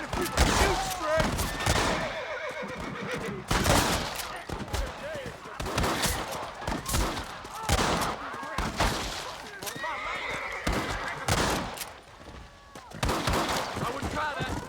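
A Red Dead Redemption shootout crackles with repeated gunshots in sharp, scattered bursts, mixed with horse whinnies and hoofbeats; a voice talks over the loud, busy action.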